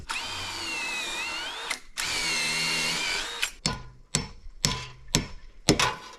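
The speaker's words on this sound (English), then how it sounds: "I'm going to go ahead, pilot drill at least just a smidge down into the beam" A power drill bores a pilot hole into a wooden barn beam, first two long steady whining runs, then several short bursts with pauses, close and loud.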